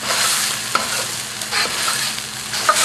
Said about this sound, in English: Now, this is the chili and the shallot, okay, turmeric and the diced tomatoes, and I'm going to heat this up